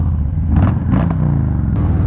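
A 2019 Harley-Davidson Low Rider fitted with slip-on exhausts idles in a deep, lumpy V-twin rumble, steady and close throughout with a light mechanical clatter on top.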